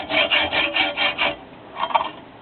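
A hacksaw cuts through a bolt in steady back-and-forth strokes, a close, raspy metallic rhythm of about six strokes followed by a pause and a couple of lighter strokes.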